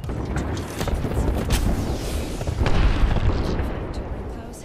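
Airstrike bombardment in the Apex Legends battle royale game, a continuous roar of heavy booms and rumbling blasts that swells in waves and holds loud throughout, with no clear pauses.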